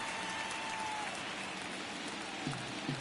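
Steady crowd buzz fills a baseball stadium in Oakland during a baseball video game, a continuous broadband wash of murmuring voices with no talk in the clip and a couple of small low bumps near the end.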